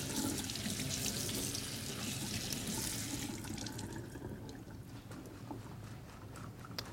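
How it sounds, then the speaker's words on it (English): Cool tap water runs steadily over strawberries being rinsed in a kitchen sink, a continuous hissing splash that stays even throughout with slight shifts in tone. "Just rinse them under cool water."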